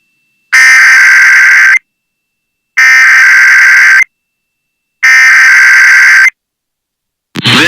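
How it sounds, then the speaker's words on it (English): A weather radio warning alarm device sounds its test tone in three loud, harsh buzzing bursts of about a second each, separated by silence, before a voice begins at the very end. "This is a test of the new weather radio warning alarm device."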